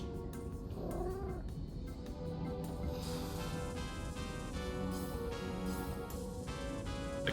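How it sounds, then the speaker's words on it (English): A cat meows and caterwauls in a video game, drawn-out wavering cries over a steady, faint background of game music and ambience, with no one speaking. "It's the cat."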